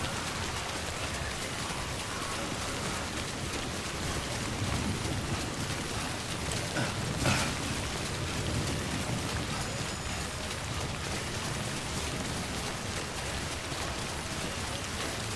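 Steady rain falls in the Death Stranding game world, a constant broadband hiss with soft pattering and a faint rumble, heard alone without talk throughout.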